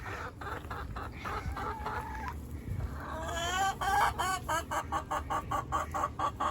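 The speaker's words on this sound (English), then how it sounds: "This is our chicken coop. We have 11 chickens and 1 rooster." Several chickens and a rooster cluck and murmur nearby in a coop, building into a rhythmic run of repeated clucks over a low farmyard hum.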